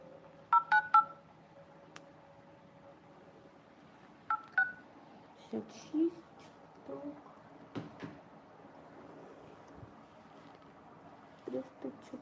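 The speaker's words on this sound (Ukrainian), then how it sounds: "Тому зараз до неї зателефонуємо." A telephone number being keyed in during a prize draw for a microwave: short bursts of touch-tone dialing beeps come in quick clusters, then further scattered tones and faint background talk and room noise.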